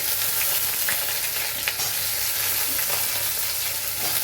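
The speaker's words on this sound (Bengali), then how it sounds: "এবারে কড়াইতে পেঁয়াজ কুচি দিয়ে আলুগুলো ছেড়ে নেব।" Potatoes and chopped onion sizzle and crackle steadily in a hot pan, a continuous loud frying hiss with occasional stirring clicks and no voices.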